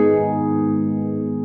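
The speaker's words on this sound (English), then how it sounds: "The second sound is a filtered EP, which sounds like this without the EQ." Rhodes electric piano from the Keyscape Classic Amp Stereo Phaser preset, heard without EQ, holding one full, warm chord that swirls gently as it slowly fades, close and alone.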